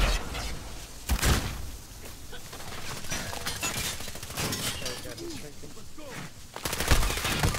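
Rapid bursts of automatic gunfire with sharp cracks and impacts in the Call of Duty shooter game, loud and close, mixed with overlapping voices of players talking.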